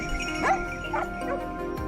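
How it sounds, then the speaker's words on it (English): Hunting dogs during a wild boar hunt in a forest, giving a few spaced yelps and barks that sound distant and echoing over a continuous background. "the barking of the hunting dogs echoed from deep within the forest"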